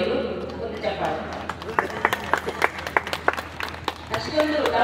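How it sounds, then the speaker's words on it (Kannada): An audience at a ceremony claps for the guruji, a burst of close, uneven handclaps that swells and fades while people talk over it. "ಒಂದು ಚಪ್ಪಾಳೆ."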